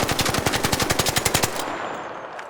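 An automatic gun fires a rapid burst of about fifteen evenly spaced loud shots in a video game, then stops, leaving a short fading tail.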